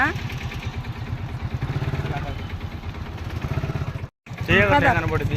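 A motorbike carries two riders at night on the way to a birthday function, its engine thrumming in a steady low pulse close by while voices talk over it and rise louder toward the end.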